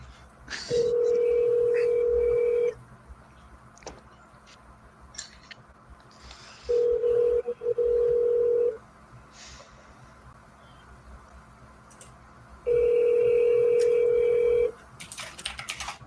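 An outgoing telephone call rings three times with long, steady ring tones separated by pauses, under faint background clicks and room noise.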